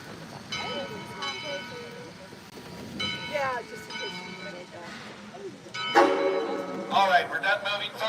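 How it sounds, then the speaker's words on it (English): A train rolls along with a rumbling, clattering rail noise and occasional squealing, bell-like tones, heard from on board, while people talk over it. "Watch your step as you exit the train."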